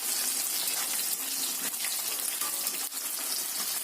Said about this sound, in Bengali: এখন পেঁয়াজগুলোকে একটু নাড়াচাড়া করলাম।